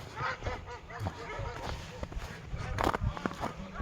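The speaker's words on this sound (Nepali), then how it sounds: "कुखुराहरू" Chickens huddled outdoors on a cold winter day amid white snow give repeated short clucks and calls, layered over rustling and faint footsteps, moderately close.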